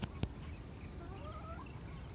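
A bird gives a few soft, wavering calls under a steady background hiss, with a faint knock near the start.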